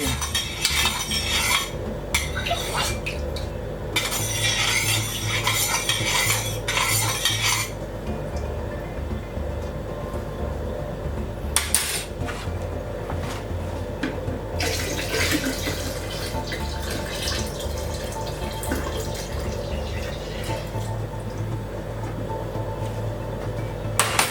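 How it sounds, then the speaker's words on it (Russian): Yeast is poured into a large 50-litre batch of homemade kvass with mint and raisins, making splashing, liquid rushing and occasional stirring or clinking sounds in bursts against a constant background hum. "Сейчас заливаем дрожжи."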